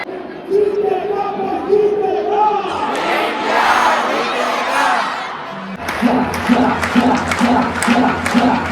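A stadium crowd at a cricket match roars and claps, with chanting voices rising and a burst of rhythmic clapping and cheers toward the end, loud and close.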